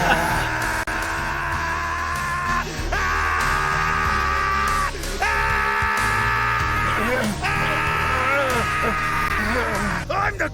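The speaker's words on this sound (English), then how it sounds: "Hey, what a scream!" A voice actor playing Captain Ginyu lets out a long, sustained, strained scream, loud and continuous with brief breaks for breath, its pitch wavering throughout.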